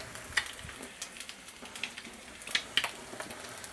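Eggs and buns fry in a pan on a gas stove just after being flipped, giving a quiet, steady crackling sizzle dotted with small sharp pops throughout.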